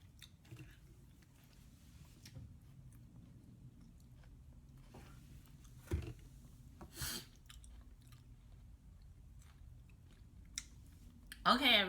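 Someone chewing a mouthful of faux tuna salad up close, soft wet mastication and occasional crunchy bites over a quiet room, with a louder clatter at the end.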